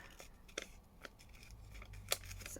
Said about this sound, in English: I think I'll cut the head of this tulip off